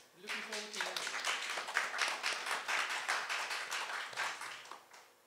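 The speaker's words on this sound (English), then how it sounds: "And one more round of applause for our artist." An audience applauds a Hindustani classical vocal recital, dense steady clapping sustained for several seconds at moderate distance, with a brief voice at the start.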